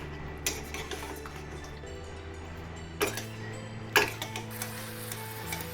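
A utensil scrapes and clinks against a pan while spiced chili chicken is stirred on medium heat, with a few sharp knocks over a low steady hum of cooking.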